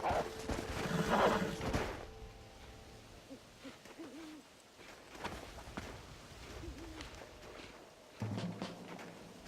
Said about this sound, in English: We'll leave the horses here and climb the rest of the way.